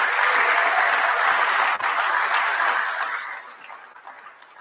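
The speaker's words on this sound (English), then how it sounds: "please give them the round of applause they so richly deserve" Audience applause at a startup demo day, a dense, steady clapping from a sizable crowd that holds strong for about three seconds and then thins and fades, with no talking.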